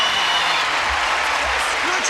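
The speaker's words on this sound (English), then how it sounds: "you're going to join John and me now in a brisk round of applause" A studio audience gives a brisk round of applause greeting the stars, a continuous wash of clapping heard throughout the short stretch, with a voice faintly present underneath.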